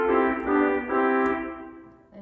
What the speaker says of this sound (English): So tromba sounds like this.